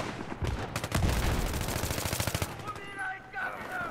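Rapid automatic gunfire in Battlefield 3, a dense close burst of shots for about two and a half seconds that then fades into quieter game noise.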